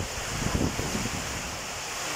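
Strong typhoon wind during a Signal No. 3 storm in Nueva Ecija roars as a dense, unbroken rushing noise with slight gusting swells, loud and enveloping.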